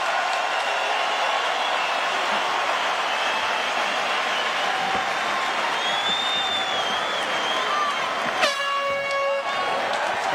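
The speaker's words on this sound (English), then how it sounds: "Elbow by Cain. Crowd reacts." Arena crowd at a heavyweight MMA bout between Cain Velasquez and Junior Dos Santos roars steadily after an elbow strike, a dense continuous wash of cheering with a brief horn-like blare near the end.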